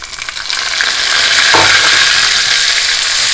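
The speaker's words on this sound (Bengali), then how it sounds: "এবার এটাই পেঁয়াজের সঙ্গে একটু ভালো মতো ভুনে নিতে হবে" Onion, garlic and ginger paste frying with onions for a chicken korma, a loud close sizzle growing steadier, with stirring scrapes and a brief clack midway.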